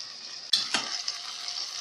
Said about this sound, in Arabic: هنزل عليها كمان بالبامية، تاخد تشويحة برضو مع اللحمة